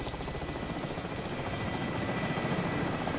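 Rotor chopping from a helicopter in Call of Duty Modern Warfare, close and loud, a fast pulsing thump over a continuous engine whine that stays steady from start to finish.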